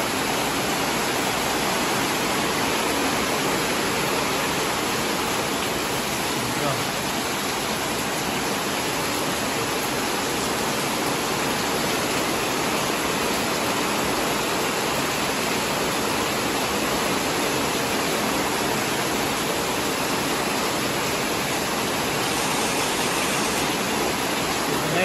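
Heavy rain pouring down in a continuous, dense roar that stays loud and unbroken throughout, with no pauses or letup.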